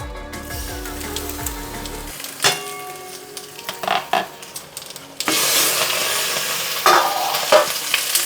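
A pan of small fish and potatoes for a banana-leaf paturi bubbles and sizzles; after a lid clatters open, the frying hiss swells loud and close with stirring scrapes, no voices over it.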